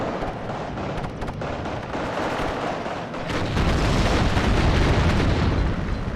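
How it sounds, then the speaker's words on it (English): Bombing strike explosions land on paratroopers in the Wargame video game, a rumble of distant blasts that swells into a louder, heavy continuous roar partway through. "I'm going to be replying with a bombing strike onto the Legionnaire Para"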